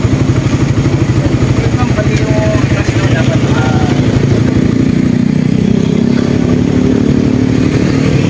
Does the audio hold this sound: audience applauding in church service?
no